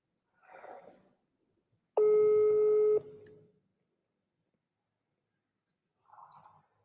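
A telephone call's tone sounds as one steady, loud electronic burst lasting about a second, with brief faint sounds before and after it and quiet in between.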